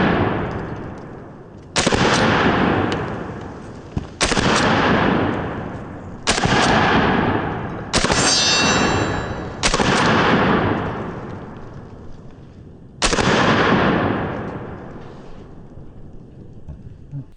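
Six loud shots from a Benelli M4 semi-auto shotgun loaded with double-aught buckshot boom out at irregular intervals, each blast ringing and decaying outdoors before the next.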